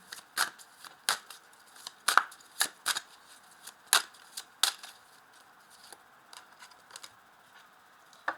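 Tarot cards being shuffled and drawn, heard as a series of sharp, close papery flicks and slaps. The bursts come in uneven clusters, loud at first and softer toward the end, with no talking.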